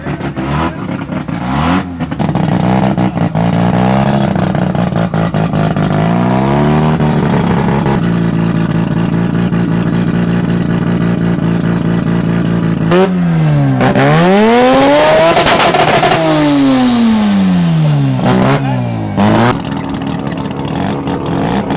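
A Mazda 13B rotary engine revs on two-step launch control, its loud, close, crackling stutter climbing and falling in repeated rev sweeps, with sharp popping bursts and a big wailing rise in the middle.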